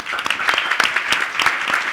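Panel audience at a William Julius Wilson Institute event giving a round of applause, a brisk, close patter of many hands clapping steadily throughout.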